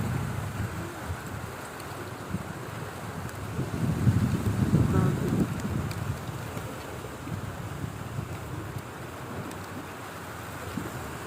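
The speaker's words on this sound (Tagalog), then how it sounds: "lakas ng ulan" Heavy rain pours steadily onto a house roof during a storm, a dense, constant hiss with low rumbling gusts of wind swelling midway, with no voices.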